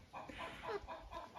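A year-old rooster gives a quick series of soft, rhythmic clucks, faint and close, with no other sounds around it.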